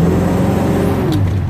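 Car engine fitted with a Holley Sniper EFI and Fitek fuel system idling steadily and strong, a loud close low rumble with a steady hum throughout.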